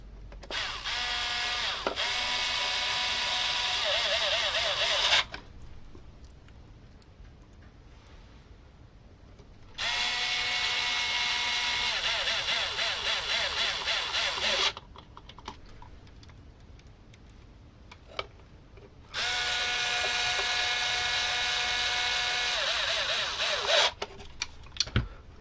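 Three screws are driven back in with a powered screwdriver, three separate whirring bursts of about five seconds each, close and loud, separated by quiet pauses.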